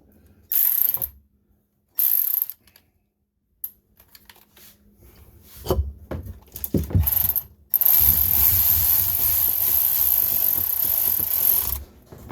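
A ratchet snugs up exhaust bolts on a 1996 Sea-Doo GTI, with short bursts of clicking separated by pauses and clunks of handling, then a longer steady run of rapid ratcheting near the end.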